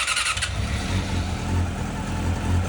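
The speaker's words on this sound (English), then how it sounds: "I was super happy that this bike fired up pretty much first time without any problems." A rebuilt track motorcycle's engine fires up after a short starter whir and settles into a low, uneven idle that pulses close by.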